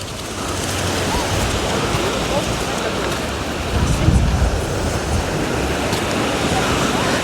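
Steady roar of Black Sea surf at Arcadia beach with waves washing in continuously, broad and fairly loud, one swell building slightly louder near the middle.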